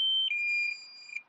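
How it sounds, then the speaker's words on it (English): A DJI Mini 2 drone controller sounds its low battery warning, a loud steady electronic tone that drops slightly in pitch partway through, then fades and trails off. "That's the sound of low battery."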